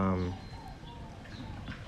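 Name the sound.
doves cooing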